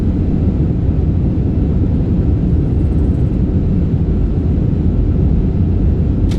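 Steady broadband jet rumble inside an iniBuilds A340-300 decelerating on the runway after landing in Microsoft Flight Simulator 2024, a loud, even roar with no talk.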